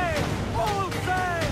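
Ship cannons in Assassin's Creed 4 Black Flag fire chain shot, several heavy booming bursts in quick succession over a loud, rumbling naval battle.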